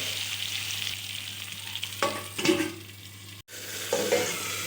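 Chopped ridge gourd stirred with salt and turmeric in a hot pan, a close, steady sizzle with a few spatula scrapes and a short dropout.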